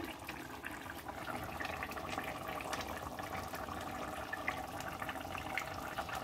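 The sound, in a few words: egg and potato chop curry gravy boiling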